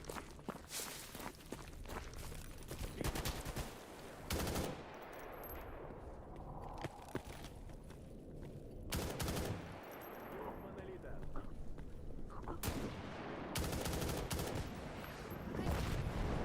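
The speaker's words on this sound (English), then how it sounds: "I love her shooting the RPG." Bursts of automatic gunfire and an RPG shot in the shooter game S.T.A.L.K.E.R. GAMMA, dense rattling volleys alternating with brief lulls and shuffling footsteps, loud and sustained throughout.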